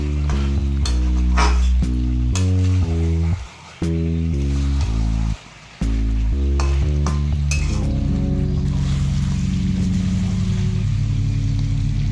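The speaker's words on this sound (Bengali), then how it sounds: "ভাজা আলুগুলো দিয়ে আবার ভালো মতো নাড়াচাড়া করতে থাকবো" Braised chicken and fried potatoes are stirred in a pan, giving a loud sizzle broken by rhythmic scraping strokes and two short pauses, with a steady frying hiss and no talk.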